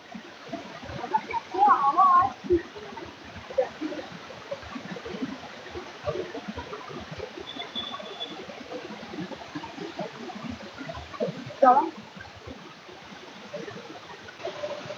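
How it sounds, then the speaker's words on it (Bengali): Waterfall in Rangaroon, Darjeeling, heard as a steady broadband rush of cold, forceful falling water filling the whole clip, with a couple of brief louder bursts. "এই হচ্ছে ঝর্ণা"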